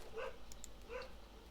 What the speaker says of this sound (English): sorry if you hear my dogs barking in the background there